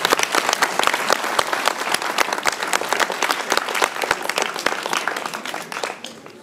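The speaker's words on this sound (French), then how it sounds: "Je vous demande de l'applaudir." A church hall audience applauds a retiring musician of the Cruet brass band at a November concert, a dense, steady clapping that fills the room for several seconds before thinning out at the end, with no voices over it.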